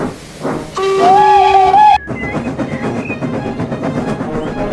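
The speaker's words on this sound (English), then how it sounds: "The heavy train slowly began to move out of the station." A heavy steam train pulls slowly out of a station, opening with a loud sustained steam whistle that cuts off sharply, then a rhythmic chuffing and hissing as it gets moving.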